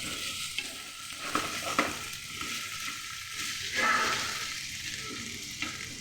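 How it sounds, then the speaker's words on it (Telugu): Diced potatoes (aloo) fry in oil in a pan, giving a steady, close sizzle broken by scraping and clattering as the pieces are stirred. No one speaks. "రెడీ చూడండి, ఫ్రై అవుతుంది బాగా"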